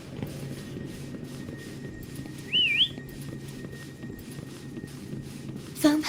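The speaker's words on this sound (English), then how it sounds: "Why don't you call Foam over? Try whistling." In the video game Wuthering Waves, a single short rising whistle sounds clearly over quiet ambient game background, followed near the end by a brief sharp chirp.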